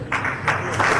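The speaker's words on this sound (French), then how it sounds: "Nous pouvons l'applaudir" A prayer-group audience applauds briefly, a soft wash of clapping lasting about a second.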